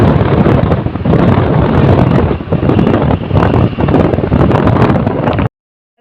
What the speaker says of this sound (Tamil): நல்லா சரியான மழையும் காற்றுமா இருக்குது